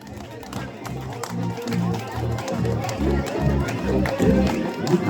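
Audience clapping and crowd noise for a five-year-old birthday boy named Pradvin on stage at a birthday party, steady and building slightly, over a low musical background with some chatter.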